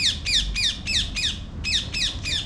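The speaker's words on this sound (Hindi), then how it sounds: "चिड़िया बोले जा रही है, चिड़िया की आवाज़ आ रही है साफ इसमें" A bird repeats sharp, squawky chirps in a quick, regular series, about eight calls with a brief gap midway, loud and near over low outdoor rumble near the ordnance factory in Muradnagar.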